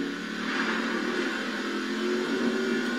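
A Ford F-150 truck engine races in Forza Horizon 4 with a steady, sustained mid-pitched roar and whir that shifts slightly as it revs, loud and continuous with no talk over it.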